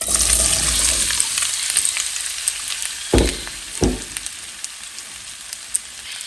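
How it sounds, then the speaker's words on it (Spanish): Raw diced potatoes, peeled and cubed, hiss and crackle steadily as they fry in a little oil in a pot, with a couple of louder sputters and clatters midway and no talking. "ya tenemos una cazuela con un poquito de aceite y le vamos a agregar medio kilo de papas"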